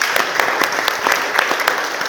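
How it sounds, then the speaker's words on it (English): An audience at a real estate investor panel event gives a dense, loud round of applause, many hands clapping in a continuous wash that holds steady throughout. "round of applause"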